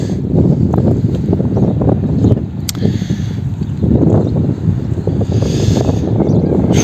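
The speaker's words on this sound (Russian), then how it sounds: "тут ветер капец у нас сегодня сильный" Strong wind buffets the microphone in loud, roaring gusts that swell and ease throughout.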